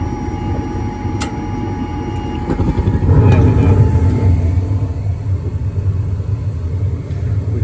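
A Trane gas furnace's burner lights with a soft click and then a swelling low whoosh and rumble that settles into a steady roar, heard close up without talk.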